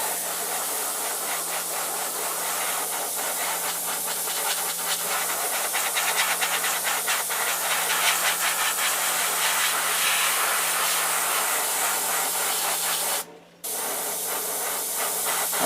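Spray primer coats a bluegill fishing lure blank: a continuous close, hissing aerosol spray that holds steady for over thirteen seconds, cuts out briefly, then resumes.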